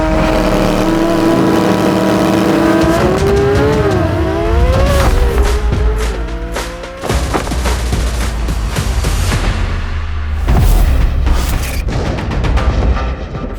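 A 2023 C8 Corvette Z06, Porsche 992 GT3, Ducati V4 SP2 and Audi R8 V10 roar loudly through a drag race, engines rising in pitch through gear changes, with sharp bangs and crackles cutting through the sustained high-revving howl.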